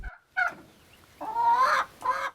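Farm poultry clucking close by in three short bursts, the middle call drawn out longer, with quiet gaps between.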